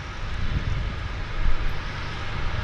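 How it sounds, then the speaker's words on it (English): A plane taxis out at Vancouver's downtown Harbour airport. Its engine gives a steady, fairly loud broadband drone that swells slightly now and then, with no voices over it. "we got a third airplane taxiing out"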